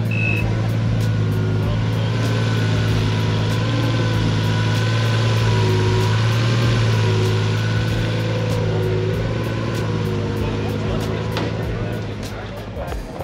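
A modified car with a turbocharged European engine idles at an outdoor car show in Ireland, a steady low rumble held throughout with crowd chatter and voices in the background.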